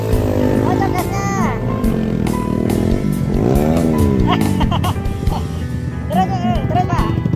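An off-road motorcycle engine revs hard on the throttle during an offroad ride in Garut, Leles, its rising and falling whine loud and close beneath continual shouting voices.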